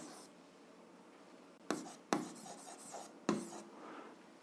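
A pen scratches on paper while working out a seventh-grade algebra solution by hand, with several short, close, distinct strokes and brief pauses between them.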